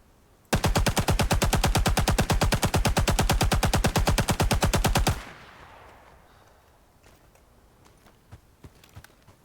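Rising Storm 2 Vietnam weapon firing: a long, loud, rapid machine-gun burst lasting several seconds, then stopping abruptly into quiet ambience with faint scattered clicks.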